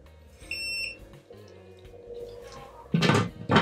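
A brewing timer beeps in a short electronic tone burst while mashing in a cherry Bakewell beer, followed by louder clattering handling noises, close in a home brewing setup.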